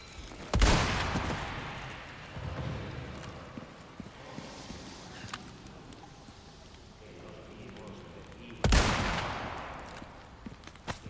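Two loud, booming gunshots in the Resident Evil 4 video game ring out several seconds apart, each with a long echoing tail, and quieter game sounds and clicks fill the gap between them.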